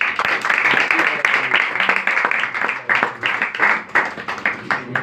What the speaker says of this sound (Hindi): सो पहले तो मैं चाहता हूँ इन बच्चों के लिए जोरदार तालियां हो जाए